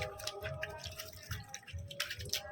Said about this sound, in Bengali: ভালো করে কচলি কচলি ধুয়ে নিতে হবে